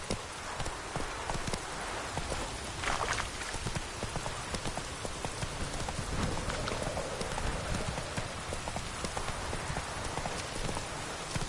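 The horse Roach from The Witcher 3 trots along, its hooves clip-clopping in a steady, quick rhythm over a constant hiss of rain, moderately loud and close.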